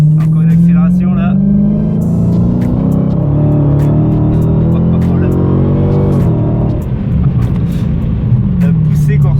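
A 2016 Dodge Challenger Hellcat with a 707-horsepower supercharged engine accelerating hard, a loud deep rising roar with a thin supercharger whine on top, heard from inside the car as someone speaks over it.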